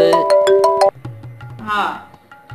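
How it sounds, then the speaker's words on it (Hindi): Mobile phone ringtone playing a bright, repeating melodic pattern for about a second, loud and close, followed by people talking. "बेटे फोन आ रहा है"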